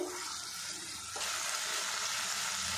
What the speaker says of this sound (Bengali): মশলাটা কষিয়ে নেব যতক্ষণ না তেলটা আলাদা হয়ে যাচ্ছে